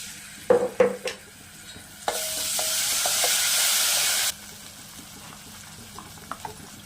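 Spices with coriander powder, black pepper and garlic paste stirred in hot oil: a few utensil knocks and scrapes, then a loud steady sizzle for about two seconds that cuts off, followed by quieter stirring taps.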